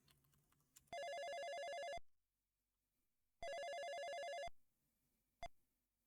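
A telephone rings back twice in long, loud electronic bursts while a number is being called, with silence between the rings and a short final blip.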